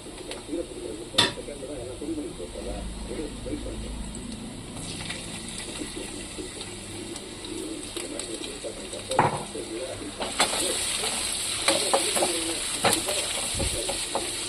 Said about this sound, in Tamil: இப்போ நல்லா வதக்கி விட்டுக்கலாம் பச்சை வாசம் போகிற அளவுக்கு.